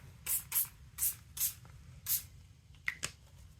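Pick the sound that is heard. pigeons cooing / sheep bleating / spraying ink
spraying ink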